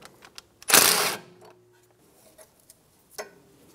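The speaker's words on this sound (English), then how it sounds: "Using a 12 millimeter socket, remove the bracket off of the knuckle for the brake hose" A socket wrench works on a brake hose bracket bolt at the steering knuckle of a 2013-2017 Honda Accord: one loud burst of ratcheting clicks, then scattered light mechanical ticks and a final short rattle.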